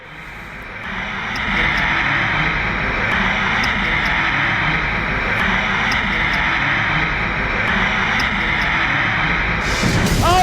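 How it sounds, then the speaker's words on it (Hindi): Boeing passenger plane engine roaring steadily after takeoff, a loud sustained broadband rumble that swells in over the first two seconds and holds, with a brief voice near the end. "अमेरिका में बोइंग के प्लेन में उड़ान भरने के बाद ही आग लग गई।"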